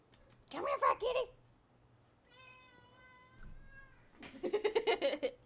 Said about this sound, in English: Is there a cat? What cat is back here?